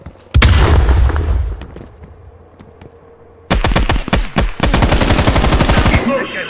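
Call of Duty Black Ops Cold War combat: a loud grenade blast opens, then after a quieter stretch with scattered shots, rapid automatic gunfire erupts in long close bursts.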